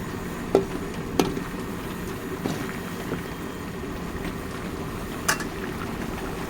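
Bombadail fish and tomato curry simmers in a pan with oil, giving a soft steady bubbling hiss broken by a few sharp pops and spits.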